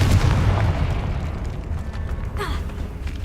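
A Confringo blasting spell in the video game Hogwarts Legacy erupts in a heavy booming explosion that rumbles and fades over a few seconds, with a brief magical whoosh partway through.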